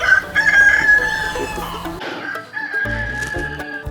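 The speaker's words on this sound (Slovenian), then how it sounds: "Spet lep petelin." A rooster crows in a garden, a loud, close cock-a-doodle-doo with clucking fowl around it, then a second shorter crow after a brief pause.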